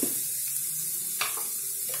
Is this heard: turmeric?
yes